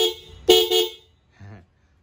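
Upgraded aftermarket horn on a KTM 790 Adventure motorcycle, sounding car-like: a loud close blast, a second longer honk, then a weaker shorter toot after a pause.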